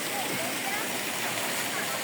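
Water flows steadily in the stream at Kabuayahan Falls, a constant close rushing wash with no pauses.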